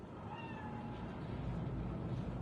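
A cat in Cyberpunk 2077 meows in a few short, rising calls over a low, steady rumble of game ambience.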